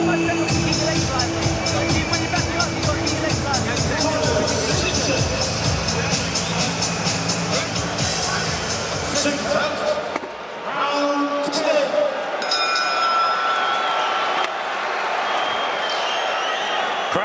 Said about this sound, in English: Crowd have loved this one.